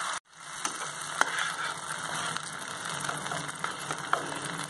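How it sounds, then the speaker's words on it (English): Mustard paste and turmeric frying in oil over a low flame, a soft steady sizzle with faint stirring scrapes and an occasional small pop, close by and with no voices. "I shall add the turmeric and then fry on a low flame."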